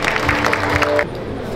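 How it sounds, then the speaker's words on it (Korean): Audience applause at a CJ Freshway food solution fair stage event, a dense patter of clapping that runs steadily and then cuts off abruptly about two-thirds through, leaving a quieter hall with a low tone beneath. "모두 힘찬 박수 부탁드리겠습니다"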